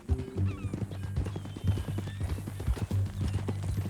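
Quick rhythmic clip-clop of horse hooves trotting nearby in the video game Red Dead Redemption 2, with a short whinny near the start.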